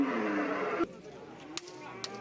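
At a livestock market, a cow lets out a long, loud moo that cuts off abruptly, followed by faint background clatter and a couple of short knocks.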